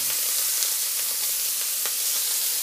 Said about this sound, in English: So you hear that sizzling away.